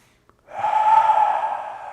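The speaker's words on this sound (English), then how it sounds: "Let's take a nice deep breath." A long, deep inhalation through the nose during Tai Chi practice, close and steady, lasting over a second after a brief pause.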